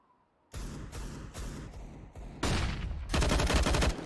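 Glock pistol burst fire in a competitive Counter-Strike match on the Nuke map, several sharp three-round bursts in quick succession followed by louder, denser gunfire near the end, with no talk.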